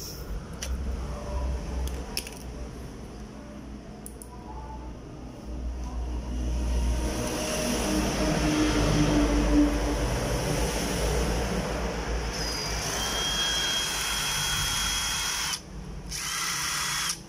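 A cordless drill whirs steadily at high speed, its motor hum swelling slightly midway, with a few faint clicks near the start and a brief drop near the end.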